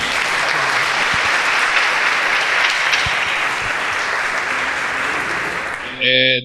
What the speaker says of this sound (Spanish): un aplauso a Santiago Loza